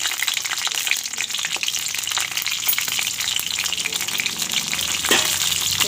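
Green chilies fry in hot oil for a village-style bitter gourd dish from western Odisha, giving a steady, dense crackling sizzle that runs unbroken and close throughout, with a brief louder spatter near the end and no talking.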